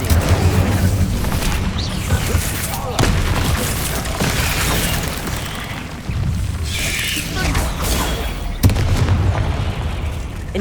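Spellcasting combat in the Hogwarts Legacy video game, with the Incendio fire spell thrown alongside shield casts: repeated booming bursts and crackling blasts over dense, continuous game noise, with voices calling out spells throughout.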